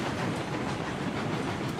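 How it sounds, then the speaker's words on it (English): Freight train with a locomotive pulling a hopper in the Railroads Online video game, a steady loud rumbling roar with a faint rhythmic clatter running unbroken, no talk over it. "freight train."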